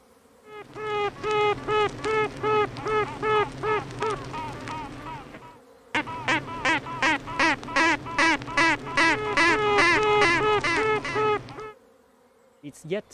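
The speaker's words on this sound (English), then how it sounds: "these tooting and quacking is taking place" Honeybee queens duetting inside a colony, a series of rhythmic tooting pulses followed by bursts of quacking, loud and close, repeated in two long runs with a short pause between them.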